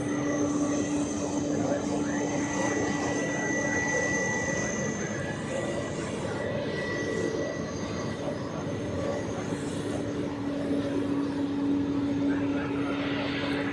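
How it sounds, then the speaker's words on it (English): A Boeing 767 jet airliner at Zurich Airport gives a loud, continuous engine roar with steady tonal whines, constant throughout with no clear rise or fade, and a voice talks over it. "Good old Boeing 767."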